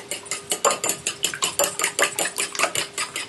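A fork beats two eggs in a bowl with fast, regular clinking strokes, a steady scraping rhythm of roughly four beats a second, close and moderately loud with no talk.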